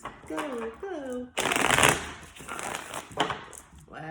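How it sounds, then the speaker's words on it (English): Tarot cards are riffled and shuffled close up in a crisp, papery rush lasting a couple of seconds, with a brief sung or spoken voice just before it. "Last shuffle for Aquarius."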